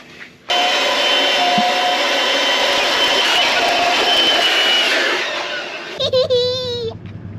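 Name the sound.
Makita blower vac inflating a swimming tube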